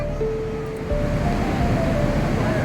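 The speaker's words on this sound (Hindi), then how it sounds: "सिंध नदी के रौद्र रूप का आनंद ले रहे हैं।" The Sindh river in flood after six dam gates were opened, a loud continuous roar of rushing water with steady broadband noise and no voices.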